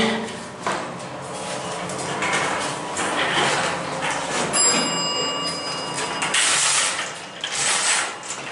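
A 1986 elevator motor runs in a JCPenney store at Ross Park Mall in Pittsburgh, a steady mechanical whir and clatter with brief high ringing tones partway through, close and continuous.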